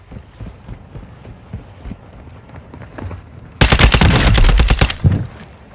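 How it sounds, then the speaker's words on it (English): Sustained automatic gunfire from Call of Duty DMZ on Ashika Island, aimed at the player: light distant shots and clatter at first, then a loud, dense burst of rapid rounds for about two seconds, with a final short volley. "You are taking effective fire."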